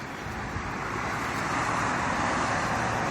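Cars on a road stream past in a steady, dense wash of traffic roar with wind rumble, loud and continuous with no single vehicle standing out.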